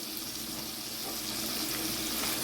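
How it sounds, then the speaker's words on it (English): Water poured into a pan of seasoned ground beef cooking for beef patties, a continuous close rushing and hissing flow mixed with faint sizzle, gradually growing slightly louder. "I'm going to put in my water"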